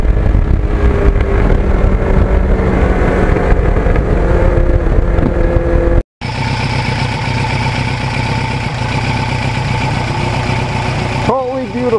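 A 1989 Kawasaki GPX750R motorcycle with a Norton muffler rides along, its engine a steady loud drone that cuts out briefly and then resumes with a different, brighter tone, heard close up.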